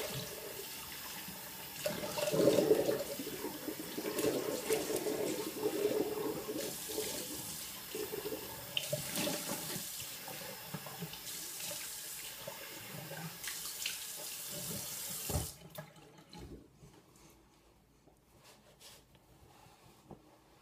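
A bathroom tap runs for a final rinse after a traditional shave, a steady splashing stream of water into the sink, with some louder gushes, that stops abruptly near the end and leaves faint room quiet.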